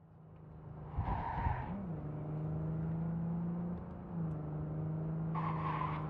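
A car in the game Cyberpunk 2077 drives with a steady engine whine that shifts pitch, marked by a couple of short tire-squeal bursts, loud and close with no talking.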